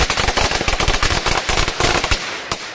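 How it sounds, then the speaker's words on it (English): A string of firecrackers pops in a rapid, loud, crackling burst of sharp bangs, ending with a single late pop after the volley dies down. "so you lit those firecrackers up."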